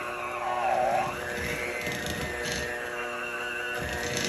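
A KitchenAid stand mixer creams butter and sugar for pumpkin cookies, giving a steady motor whir and hum. Its pitch rises briefly as the speed is turned up a notch, and it runs on alone with no one talking.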